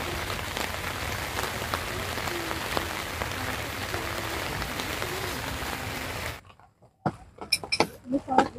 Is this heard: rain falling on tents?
yes